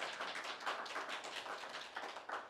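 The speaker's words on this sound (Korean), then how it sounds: "박수 한번 쳐주십시오." A crowd applauds steadily, a dense wash of many hands clapping, heard at a moderate distance without pause.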